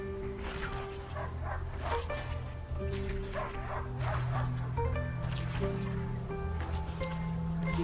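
A dog barks repeatedly in quick bursts over a steady musical background and ambient rustle, fairly close and clear, in the video game A Plague Tale: Innocence.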